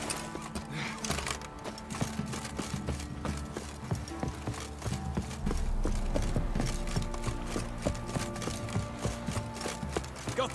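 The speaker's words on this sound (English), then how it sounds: "There's horses on." Horses' hooves clip-clop steadily in The Witcher 3, a rapid rhythmic clatter of several horses close by, mixed with game music and ambient noise, growing louder midway through.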